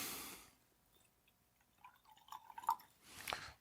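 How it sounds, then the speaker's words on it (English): Water drips into a glass of Scotch whisky: a few small, close plinks and trickles in a quiet room, with a soft rustle at the start and end. "I'll add a little bit of water to it."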